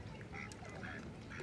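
Ducks quack in short bursts while being fed outdoors, several calls spread across a brief stretch against a soft background murmur.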